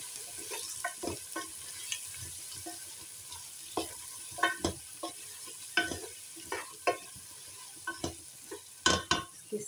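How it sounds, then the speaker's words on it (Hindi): Potatoes being stirred with salt and turmeric in a frying pan, giving a steady soft sizzle broken by repeated sharp scrapes and taps of a spoon against the pan, loud and close, with no talking. "नमक शामिल करना है, हल्दी शामिल करनी है, इनको मिक्स करना है"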